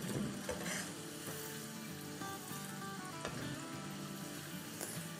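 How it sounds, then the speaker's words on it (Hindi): Potato crispy bites deep frying in hot oil, a continuous close sizzle with fine crackling bubbles that holds steady throughout, faint against quiet background music and without talk. "ये 2-3 मिनट और फ्राई कर लेंगे"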